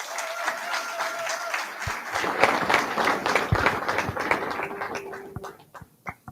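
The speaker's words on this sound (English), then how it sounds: "Can we give the participants a round of applause" An audience gives school participants a round of applause, a dense wash of many hands clapping at once, steady and moderately loud, thinning out toward the end.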